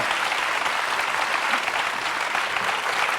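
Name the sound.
studio audience applause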